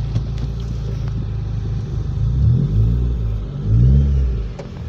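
Honda Civic FD with manual transmission idling just after starting, a steady low engine rumble heard from inside the car with a couple of gentle swells in revs.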